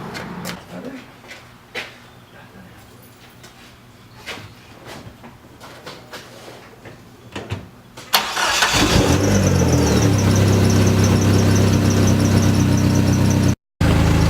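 A Dodge SRT4 turbo car with freshly gapped spark plugs and a new air filter cranks over after quiet shuffling, catches abruptly and settles into a loud, steady idle close by.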